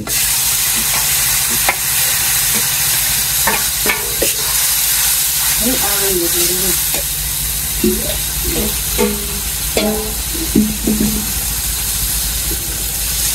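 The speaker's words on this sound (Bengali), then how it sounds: "মশলায় পেঁয়াজের মধ্যে দিয়ে কষায় নেব ভালো করে গুলে দেও মশলা" Spice paste and onions fry in a pan with a steady sizzle and hiss while a utensil stirs, scraping and knocking in irregular bursts close by, with no talk over it.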